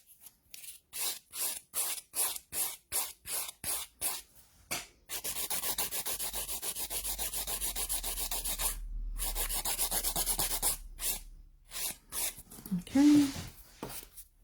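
Nail file rasping across a customer's nails, a steady rubbing scrape at close range in quick repeated strokes, then a longer continuous stretch, with a brief voice near the end.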